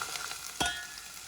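Chopped onion frying in a little hot oil in a pressure cooker, a steady quiet sizzle with one brief spoon scrape or clink against the pot.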